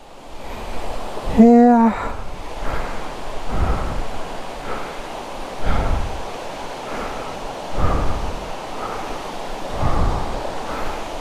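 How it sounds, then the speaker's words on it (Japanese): Rushing water of Sasa no Taki waterfall in Totsukawa village: a steady, broad roar that swells in regular surges every couple of seconds, with a brief high chirping tone early on. "これが笹の滝。"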